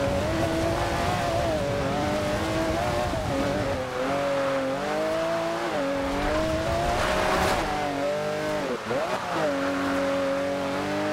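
A car drifts with sustained tire squeal and a revving engine in Forza Horizon 2, the engine note bending up and down through the slide, loud and continuous with talk in the background.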